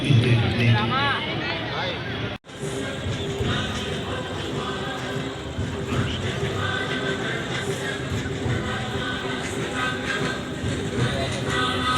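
A Mumbai local train runs loud and close, its rumble and rattling carriage noise steady throughout, with a crowd's babble and passengers talking over it, plus a brief dropout near the start.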